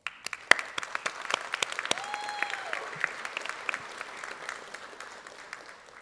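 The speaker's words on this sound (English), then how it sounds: "applause." A crowd applauds at a nursing pinning ceremony, dense clapping with sharp individual claps near the start that gradually thins and softens, a faint whistle-like tone rising briefly in the middle.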